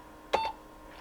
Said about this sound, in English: If you do it again, you get 2 beeps.